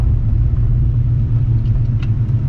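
A 1993 Ford Foxbody with a 408 stroker V8 idling, a loud, deep, even rumble with a slight lope, heard close from inside the car, with no speech.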